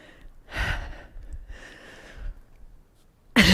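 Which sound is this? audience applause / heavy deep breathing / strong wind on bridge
heavy deep breathing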